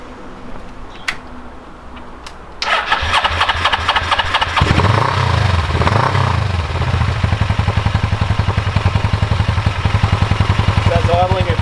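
A Suzuki GS500 motorcycle with a custom exhaust fires up and settles into a steady, rapid idle at 1500 RPM, loud and close, with a rhythmic clattering pulse.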